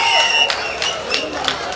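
A crowd applauds and cheers at a kabaddi final in Bangalore, a dense, steady roar of clapping and voices with a few sharper bursts throughout.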